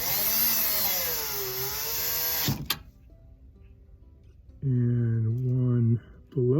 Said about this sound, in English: And now we're going to add some screws here.